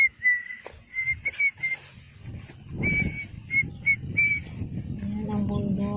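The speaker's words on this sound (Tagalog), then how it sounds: "makinig sa huni ng ibon." Thin, high bird chirps repeat in short separated phrases in the mountain countryside, clear against a low background murmur of activity.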